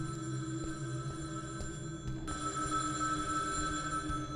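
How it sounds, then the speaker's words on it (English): Telephone ringing in the video game Cold World, a quiet electronic ring with steady tonal layers over a low background hum, repeating evenly without voices. "Phone's ringing."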